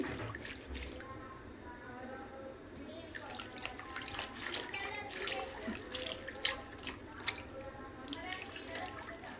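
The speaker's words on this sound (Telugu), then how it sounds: "మళ్ళీ ఒకసారి వాటర్లో వేసేసి ఇసుకుంటుంది కదా ఆకుకూరలకు ఎక్కువ, అందుకే 2-3 సార్లు వాష్ చేసుకోవాలి" Fresh spinach leaves being rinsed in a bowl of water, with soft steady splashing and dripping close by throughout, the water sounds gently rising and falling.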